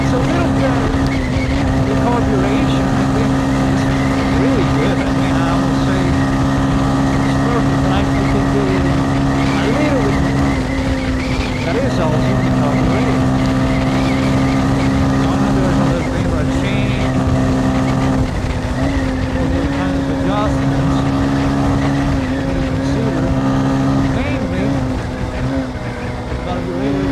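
A motorcycle engine drones at a steady cruising pitch while riding on a wet road at night, a continuous loud hum with slight speed shifts, and someone talks over it throughout.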